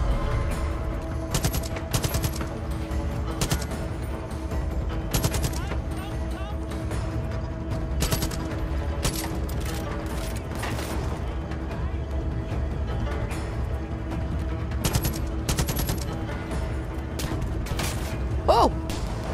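Rapid gunfire bursts crack through a Far Cry 5 firefight in the Hours of Darkness DLC, sharp repeated shots over a constant rumble of game sound, with a player talking now and then.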